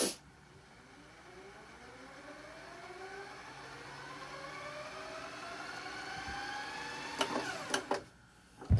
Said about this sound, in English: Stop and rewind.